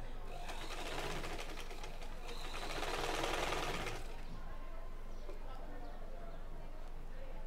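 A sewing machine stitches a thin-fabric kameez sleeve to the bodice, a fast steady mechanical whirr swelling louder in the middle and then easing, with someone talking over it.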